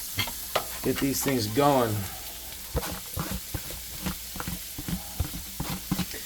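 Onions sizzling with ground meat for sloppy joes in a non-stick pan: a steady hiss with repeated stirring scrapes and taps, close by, and a brief spoken voice early on.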